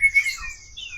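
Brief high chirping and whistled notes from an oriental magpie-robin (kacer), a few quick repeated calls close by over faint low rumble.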